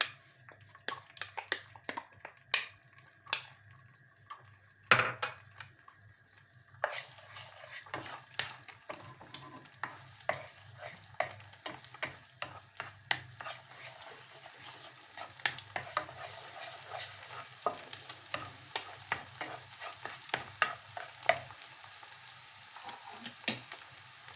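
Beaten eggs sizzle in a frying pan with butter for a Turkish ovmaç, stirred with frequent light scraping ticks over a steady low crackle that grows busier midway, close and fairly quiet.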